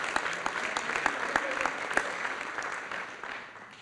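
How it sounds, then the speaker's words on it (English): Audience applause at a high school top ten and military recognition ceremony, a crowd clapping with distinct sharp claps over a steady wash, fading gradually toward the end. "So that's another round of applause as well."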